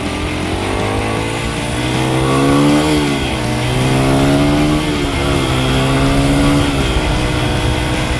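A Honda CRF 80F dirt bike engine revs and pulls through its gears, a loud, close buzzing note that climbs, dips and climbs again as it shifts, with no voices.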